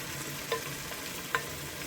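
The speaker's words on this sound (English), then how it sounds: "at this stage, I'm just going to add in my my diced tomatoes" Diced tomatoes drop into a simmering egg and vegetable stew with a steady sizzle, broken by two brief soft splashes or clatters close by, with no voices.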